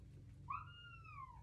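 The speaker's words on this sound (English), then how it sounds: "So if you hear a cat meowing," A house cat lets out a single drawn-out meow, faint and somewhat distant, over a low steady hum in a home craft room with no talking.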